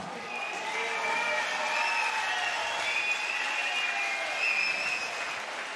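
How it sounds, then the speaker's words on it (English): A crowd at a mixed martial arts fight event applauds the main event fighters, a dense, sustained wash of clapping with some cheering that stays loud and even from start to finish. "huge round of applause for your warriors of the main event"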